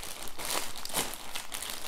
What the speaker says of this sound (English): but instead, I got another envelope. So here we go. Open it up.